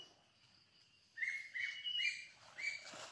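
Several birds chirp in short bright bursts at a moderate distance, outdoors in a quiet rural setting, with no talking.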